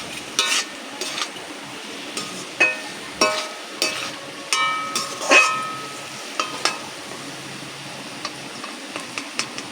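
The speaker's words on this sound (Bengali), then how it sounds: "দু একবার নাড়াচাড়া করে নামিয়ে দেবো" Fried carrots, cashews and raisins being stirred in a pan for fried rice: a series of sharp metallic scrapes and clinks of a spatula over a faint sizzle, close by, with no talking.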